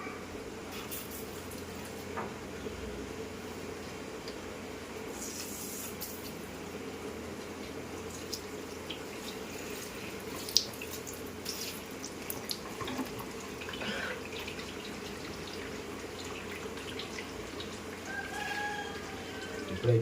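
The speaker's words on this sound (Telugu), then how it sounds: "ఫస్ట్ మనం కొలాయి ఆన్ చేద్దాం అన్నమాట." Water runs steadily from a household tap into a water filter, a continuous moderate splashing flow with faint background noise throughout.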